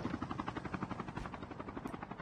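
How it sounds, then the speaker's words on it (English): A helicopter approaches in the mobile shooter Call of Duty Mobile, its rotor thumping in a steady rhythmic chop at moderate distance, with no speech over it. "heli's coming for us"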